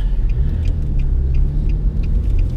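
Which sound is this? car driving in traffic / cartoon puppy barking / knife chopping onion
car driving in traffic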